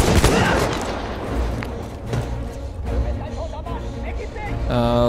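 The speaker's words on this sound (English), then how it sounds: "And now we're going to shoot at you." Gunfire in the Battlefield 1 video game, a loud burst of shots at the start followed by rumbling combat noise, with someone talking over the action.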